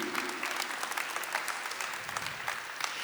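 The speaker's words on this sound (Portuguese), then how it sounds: "Uma salva de palmas para isso." Applause from a church audience at a Catholic gathering in Cachoeira Paulista, a dense continuous patter of many hands clapping, moderately loud and sustained for a few seconds.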